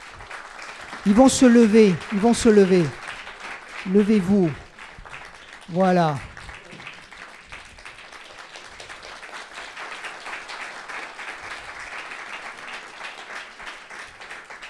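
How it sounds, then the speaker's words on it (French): A speaker's voice rises in short bursts before steady clapping from an audience settles in at Château de Tournoël, honoring people in training, continuing evenly to the end. "Mais oui, on peut les applaudir."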